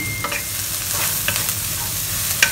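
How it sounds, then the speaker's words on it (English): Chopped dried red chillies stir-fried in a wok for Kam Heong chicken, giving a loud, steady sizzle with quick spatula scrapes and light clinks. "Fry them until fragrant. This will take a while. Remember to keep stirring them do not burn them"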